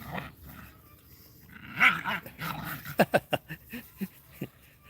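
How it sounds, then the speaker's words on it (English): Small dogs growl and snarl close by, breaking into a quick run of sharp yaps and barks in the second half. "They're wonderful little dogs."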